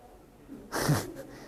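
A single quick sneeze bursts out, short and sharp, fairly close, during a synagogue service, with a faint murmur of room noise around it.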